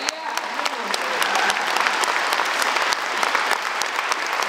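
Audience applause for folk dancers at a Latvian dance ensemble's anniversary concert in Saldus: dense, steady clapping from a large indoor crowd fills the whole stretch evenly.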